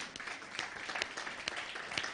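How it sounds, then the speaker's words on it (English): Audience applause at a leadership dialogue conference: a dense, continuous wash of many hands clapping, fairly quiet and distant, with a few louder claps standing out. "let's give Brother Sipo a wonderful round of applause."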